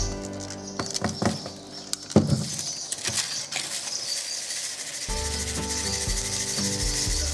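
Crushed glass powder being shaken through a coarse, large-holed colander sieve for crafts, a steady gritty rustling and patter with scattered sharper ticks, close up and continuous, with no voice.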